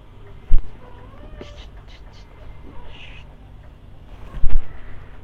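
A cat meows a few times over a close, low background rumble, with two sharp thumps breaking in near the start and end.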